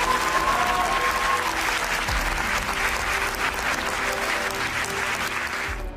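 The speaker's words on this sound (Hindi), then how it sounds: "नाम लेते ही पहली पंक्ति से अंतिम पंक्ति तक उसके सम्मान में तालियां बजेंगी।" An audience at a live poetry and speech event in Bhopal breaks into sustained applause, a dense, loud wash of many hands clapping continuously from start to finish.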